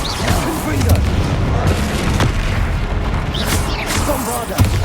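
A Confringo blast spell in the Hogwarts Legacy video game, booming explosive impacts rumbling through a dense battle mix, with a sharp burst near the end; a voice talks over it.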